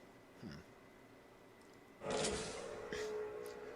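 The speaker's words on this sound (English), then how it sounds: "So we flip it and we hear the door close." A tram door in the video game Riven slides shut with a sudden rushing mechanical swish and a low thud, preceded by a faint brief creak against a quiet hum.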